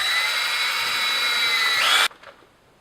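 A power drill bites into a Porsche 986/987/996/997 exhaust bolt to start a dimple, a steady high whine that climbs slightly before cutting off abruptly, followed by a faint tail.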